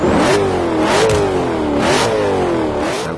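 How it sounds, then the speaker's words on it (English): Car engine in Forza Motorsport 5 with an aftermarket exhaust fitted, revving loudly and repeatedly, pitch climbing and dropping through several throttle blips close up with no talk over it. "So let's see how the car sounds first with the exhaust on."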